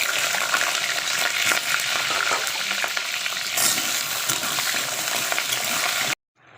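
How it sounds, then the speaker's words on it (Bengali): Potatoes frying in a little oil seasoned with dried red chili and whole garam masala, a dense, close sizzle with stirring scrapes that runs steadily before cutting off abruptly near the end. "এবার আলুটা একটু ভেজে দিই"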